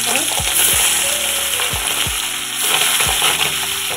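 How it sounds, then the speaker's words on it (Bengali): Pabda fish frying in hot oil in a wok, a steady loud sizzle and crackle running throughout, with several soft low thumps spaced out as pieces are moved, close up and no talking. "এবার একটা একটা করে মাছগুলোকে ভেজে নেবো এরকম করে।"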